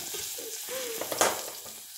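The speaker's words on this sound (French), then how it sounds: "J'ai mes carottes qui grésillent" Carrots sizzling and frying in a pan, a steady crackle with stirring noises and a brief louder hiss burst near the middle, heard close and alone without talk.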